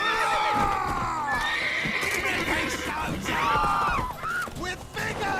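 A horse in The Witcher 3 video game whinnies loudly and repeatedly, long wavering neighs up close with hoof clip-clop and faint mechanical clatter underneath, while other voices murmur in the background.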